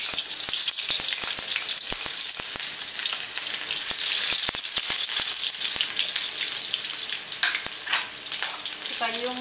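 Shallots fry in a hot pan with oil, giving a loud, steady sizzle broken by sharp pops and crackles throughout.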